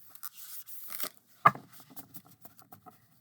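Stiff, oversized tarot-style cards from a large deck riffled and shuffled up close, a burst of papery flutter followed by a sharp snap and scattered soft taps settling down.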